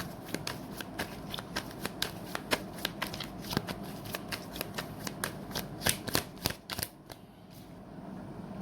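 Tarot cards being shuffled by hand, a steady run of crisp, close riffling flicks, fairly quiet and without speech, tapering off near the end.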